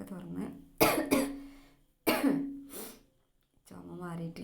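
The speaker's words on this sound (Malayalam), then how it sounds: "ചുമ മാറിയിട്ടില്ല കേട്ടോ, മാറി വരുന്നേ ഉള്ളൂ" A woman coughs harshly a few times in separate close bursts with short gaps between them, indoors, before trying to speak through the lingering cough.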